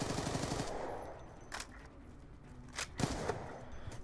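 Video game gunfire in a free-for-all match: a short rapid burst of shots, then a few separate single cracks, fairly faint, with no talk over them.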